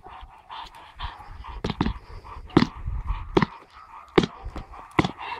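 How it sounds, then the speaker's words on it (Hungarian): A dog panting and whimpering nearby, with several sharp transient bursts breaking through the steady breathing during a working or training session. "Okos kutya vagy, Eko."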